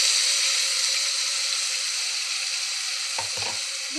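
Onion tomato paste frying in a pan for a kabuli chana rajma masala curry, a steady bright sizzle throughout, ending with a couple of short stirring knocks.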